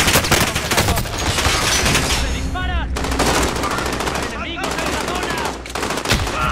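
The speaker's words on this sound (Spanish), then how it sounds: "¡Se disparan!" Rapid automatic gunfire in the video game Call of Duty: Modern Warfare, with loud, dense bursts and ringing shell-like pings in between, heard alone without voices.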